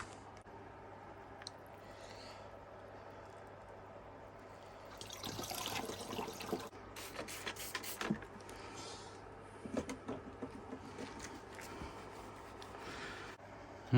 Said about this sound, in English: let me pour this liquid back into its container